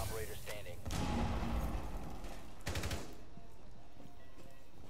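Gunfire in a first-person shooter game, a burst of loud shots around one second and another around two point seven seconds over busy game noise, with players talking over it.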